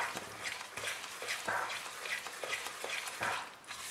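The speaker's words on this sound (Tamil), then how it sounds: "இப்போது இதை மிக்ஸ் பண்ண வேண்டியது தான்." Rava being stirred with sugar syrup in a pan over a gas flame, a close, rhythmic series of scraping strokes repeating every fraction of a second against a soft background hiss.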